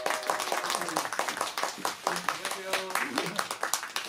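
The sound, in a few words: audience applause for a singer at a showcase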